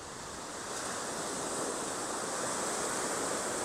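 Surf rolling onto the beach at Vista Sol in Bavaro, a steady dense roar of breaking waves with wind, loud and continuous, no voices.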